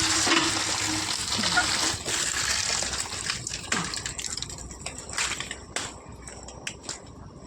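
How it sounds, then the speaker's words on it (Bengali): Potatoes are washed by hand in water, giving a continuous rushing, splashing gush with a few sharp knocks and clatters as the flow slowly thins out. "আলুগুলো এখন ধুয়ে নেব একটু"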